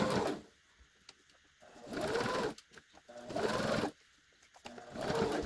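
A sewing machine top stitching a quarter inch from the edge of a fabric hospital mask, running in three or four steady bursts with short pauses between, close and clear.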